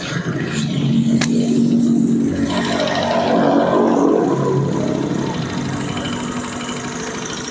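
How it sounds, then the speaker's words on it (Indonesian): A Honda Vario 150 scooter engine runs steadily close by with a rough, noisy idle, its mechanical rattle continuous throughout. "suara mesinnya kasar nih"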